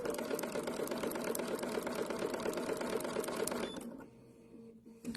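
A sewing machine stitches an appliqué with a rapid, even mechanical chatter of the needle, close and steady, then stops abruptly, leaving quiet handling noises.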